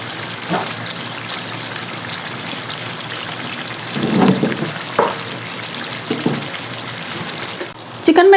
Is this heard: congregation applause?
no